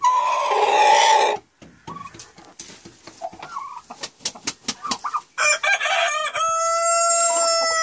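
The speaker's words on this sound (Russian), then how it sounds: "вот куры породы мини-мясные" Mini meat-breed chickens cluck and a rooster crows loudly close by, with scattered short clucks in the middle and a long crow at the start and end.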